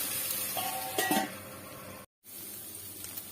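Tomato pieces fry in a pan for egg fried rice, a steady low sizzle with a brief scrape of stirring near the middle, then a short cut to silence before the frying resumes.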